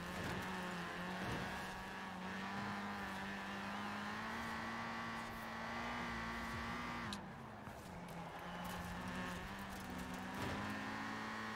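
Steady, droning engine roar from a Ford race car in Forza Horizon 4, holding pitch through long straights with a brief drop and shift midway, plus faint tire noise, continuous and close.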